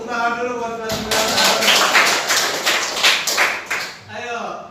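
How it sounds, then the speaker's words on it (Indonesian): A classroom group breaks into applause, a burst of overlapping claps lasting a few seconds, with voices heard just before and after it. "tepuk tangan dulu buat kalian"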